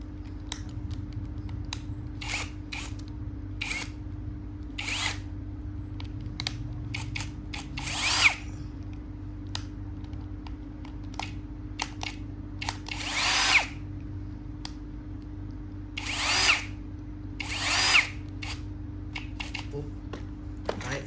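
A power drill whirs steadily under a low hum, spinning a gun part, with repeated short bursts of higher-pitched grinding as the bit spins against it.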